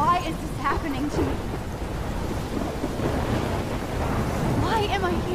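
Thunderstorm in the video game Life is Strange: loud blustery wind and deep thunder rumble, with gusting swells and faint higher tonal sounds drifting through.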